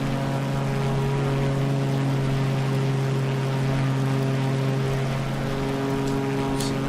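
Aviat Pitts Special aerobatic biplane engine droning steadily at close range in Microsoft Flight Simulator 2020, a low, even hum with strong harmonic tones, flying low through the Colorado River canyon, no talk.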